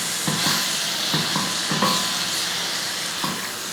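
Onions and tomatoes that have softened in a pan are stirred, giving soft repeated scraping strokes over a steady frying sizzle throughout.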